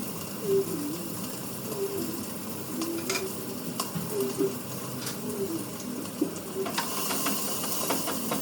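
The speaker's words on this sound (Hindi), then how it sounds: "यहाँ पे मैंने ये सरसों का तेल डाला है तड़का लगाने के लिए" Mustard oil sizzles and crackles steadily in a pan heating up for a tempering, a soft continuous frying hiss with occasional clinks of a utensil, no talk over it.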